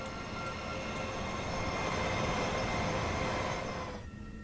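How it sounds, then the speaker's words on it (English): A train passes in the Train Simulator game on the Midland Mainline, a loud, steady rumble with wheel squeal and rattling wagons that holds for about four seconds, then cuts off abruptly. "There's another train."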